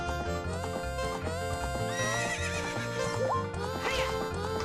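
The horse Epona whinnies in a rising, shrill neigh in The Legend of Zelda: Ocarina of Time 3DS, amid layered game music and sound effects, with hoof-like thumps underneath.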